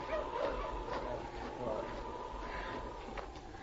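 Several malamute sled dogs barking and yipping at a distance over a steady low rumble and faint talk.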